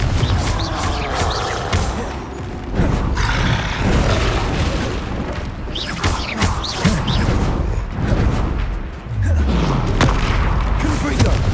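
Confringo blasting curse explosions in the Hogwarts Legacy video game go off repeatedly as booming, crackling bursts amid battle clatter, with a voice speaking over the din.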